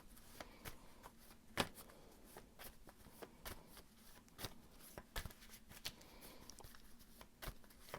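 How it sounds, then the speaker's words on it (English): Tarot cards being shuffled up close in a quiet room, a steady run of soft riffling and papery slaps with irregular sharper snaps, no talking. "I'm going to shuffle some more cards."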